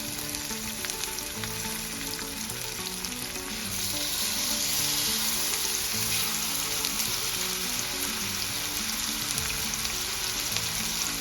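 Ribeye steaks searing in hot oil in a pan, a loud continuous sizzle and crackle that swells partway through and keeps going, close up with no talk.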